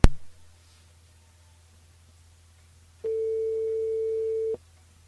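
A telephone line gives a single steady electronic tone lasting about a second and a half, heard alone after a brief knock and a stretch of near silence.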